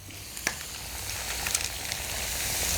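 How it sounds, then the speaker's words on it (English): An egg cracked into a hot pan slicked with avocado oil for no-rice fried rice sizzles in a steady, close frying hiss, with a faint tap near the start and a few small crackles over the top. "I'm just gonna crack the egg right into the pan"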